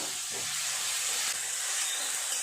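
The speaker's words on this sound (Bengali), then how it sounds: "সমস্ত কিছু একটু নেড়ে চেড়ে ভালো করে ভেজে নেব একটু তেল দিয়ে দিলাম" Spices with ginger and garlic frying in oil while being stirred, a dense, even hiss of sizzling close up with a faint scrape near the start and no talking.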